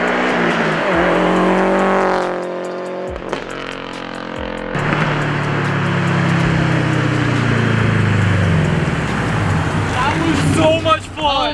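Subaru fitted with a Tomei Expreme Ti titanium exhaust, loud and close, revving up then falling, dropping out briefly, then a long deep rumbling pull with rising and falling engine tone, plus brief voice sounds.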